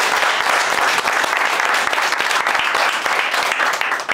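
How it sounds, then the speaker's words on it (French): Loud, dense applause from a seated audience at a business testimonial gathering, sustained steadily for about four seconds with no voices on top. "Applaudissez pour vous-même."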